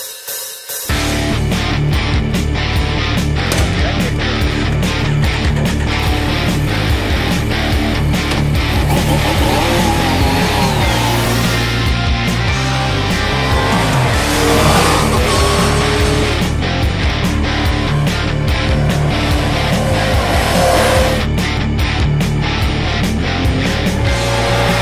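Yamaha Niken three-wheeled motorcycle being ridden by a rider in leathers, its engine running loud and steady for the whole stretch, rising and falling in revs through long sweeps, with no talk.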